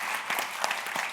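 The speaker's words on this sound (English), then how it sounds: "let's have a quick round of applause." Short burst of audience applause at the close of a public interview event about the Dutch roots of New York, a dense patter of many hands, moderately loud, with no speech over it.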